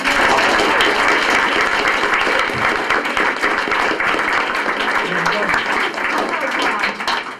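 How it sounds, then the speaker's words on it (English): An audience at a Cabrillo Unified School District board meeting gives a loud, sustained round of applause, dense clapping filling the room steadily from start to finish. "One more round of applause."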